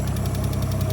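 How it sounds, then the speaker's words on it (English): A car engine idles steadily after an exhaust leak repair, a close, even low rumble with rapid rhythmic pulsing and no talking. "already sounding much better over here with the car running"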